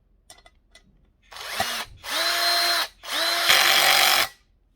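Powered screwdriver driving a cross-head screw into a 1.8-litre pressure cooker assembly, with a few light clicks, then three whirring bursts of rising pitch separated by short pauses, close and alone.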